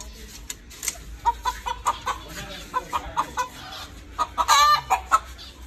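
Chickens cluck in short repeated bursts, several hens calling close by in a rhythmic series that grows busier toward the end, with quiet background noise between calls.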